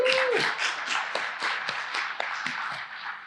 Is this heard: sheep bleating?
no